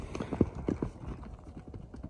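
Horse hooves clip-clopping on ground at a buzkashi horse trial, a quick irregular beat of hoofbeats nearby, fairly faint, over light background noise.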